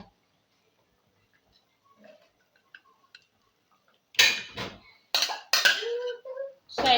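Ogbono soup stirred in a cooking pot, starting with near silence and faint scattered clinks, then a few loud scraping, clattering spoon-against-pot strokes close up.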